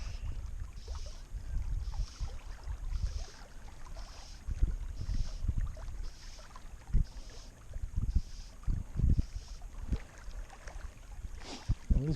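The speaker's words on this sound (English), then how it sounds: "this wind has definitely picked up" Wind gusts across open water around a fishing boat at Newlyn, a steady rushing bed with microphone buffeting and low thumps, fairly loud and continuous with no voices.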